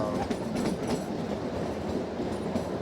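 A Shivalik Deluxe Express train on the Kalka to Shimla line rolls along the rails with a steady rumble and rhythmic clacking of wheels, loud and close, no voices.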